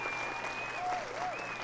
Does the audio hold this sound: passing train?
no